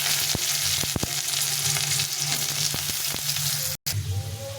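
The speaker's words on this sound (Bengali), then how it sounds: "এখন আমি আলুটাকে ছেড়ে দেবো। আলুগুলো প্রথমে ভেজে নিয়ে তারপর পটলগুলো ভেজে নেব।" Potatoes (red potatoes) fry in hot mustard oil in a pan, giving a loud, steady, close sizzle that continues almost unbroken, with a few brief stirring knocks and a short dropout near the end.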